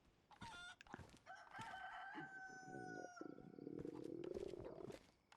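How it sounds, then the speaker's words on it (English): A chicken crows and clucks in the survival video game DayZ, a series of drawn-out, wavering calls over about five seconds, fairly faint and heard alone. "And there's a chicken."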